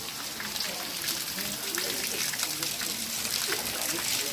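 Water flows down from the hill at Akasaganga near the Simhachalam temple, a steady close splashing trickle with bright spattering noise that continues throughout.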